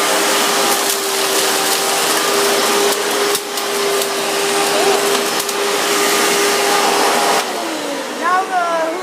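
A Hoover bagless vacuum cleaner runs loud and close with a steady high whine and airy roar for about seven seconds, then its motor pitch drops and winds down as it is switched off.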